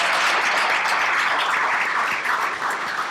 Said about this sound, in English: So a big applause for them.